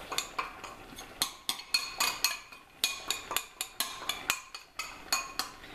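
A spoon stirring red paste into Korean soft tofu soup (soon doo boo) over high heat, producing a quick run of irregular metallic clinks and taps against the pot, close and crisp, with no voices.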